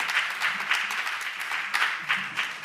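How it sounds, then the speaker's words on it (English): Church congregation clapping hands in praise, a steady dense patter of many hands filling the room, loud and continuous with brief swells throughout. "Let's give the Lord a hand clap of praise for the message and the messenger."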